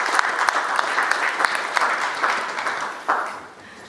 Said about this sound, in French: Je pensais qu'on pouvait acclamer pour cet aspect des choses.